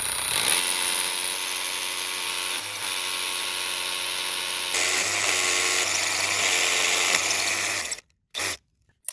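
A power drill bores into rock on a sport climbing route, whining steadily and loudly for several seconds, dipping briefly, then cutting off with a few short bursts at the end.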